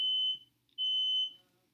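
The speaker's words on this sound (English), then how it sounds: "Fire alarm's going off in there." A smoke alarm sounds two steady high-pitched beeps from another room, each about half a second long with a short gap between them, clear but not loud against a quiet indoor background.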